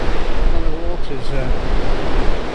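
Sea waves wash onto a sandy shore on the NC500 coast, making a loud, steady surf roar with buffeting wind noise and a brief, faint voice in the middle.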